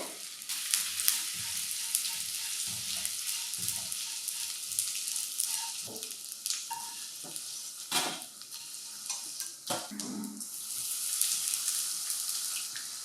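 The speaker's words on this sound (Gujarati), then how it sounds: "ઘી ગરમ થઈ જાય એટલે સૌથી પહેલાં આપણે ગુંદરને તળવાનો છે." Powdered edible gum frying in hot ghee, a continuous bright sizzle with scattered stirring scrapes and bubbling pops, close and steady with no voices.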